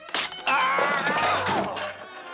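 Window glass shatters during a break-in: a loud, close crash of breaking panes with clattering debris, ringing on for a couple of seconds before fading.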